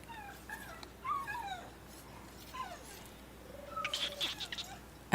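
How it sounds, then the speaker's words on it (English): A cat in Destiny 2 gives a series of soft, high meows and mewing calls at close range, several short cries with brief gaps between them, faint against quiet game ambience. "Did you know you could pet the cat?"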